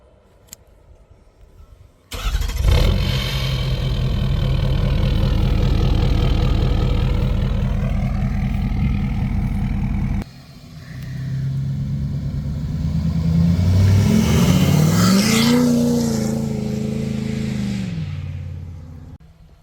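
A 2016 Ford F250 pickup fires up and revs nearby, its exhaust note rising into a loud sustained drone, a brief drop-off, then climbing again through several throttle swells before easing off.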